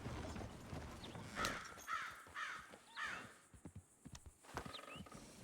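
Horses in the Red Dead Redemption 2 video game neigh and whinny in several sharp calls, followed by hoof clatter and soft snorts, fairly close and without talk.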